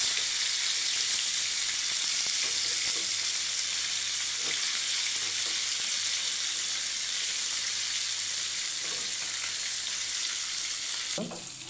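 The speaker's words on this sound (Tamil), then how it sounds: "இனி இது பொரியட்டும்." Fish pieces fry in hot oil in a pan while a fish curry is prepared, giving a steady, close, continuous sizzle that carries on evenly throughout with no talking.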